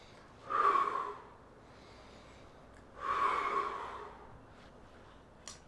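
A person doing a mobility routine, arching and tucking the back, takes two slow, audible breaths a few seconds apart, each a breathy, slightly nasal rush of air close to the microphone.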